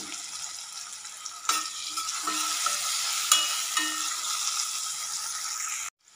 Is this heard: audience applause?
no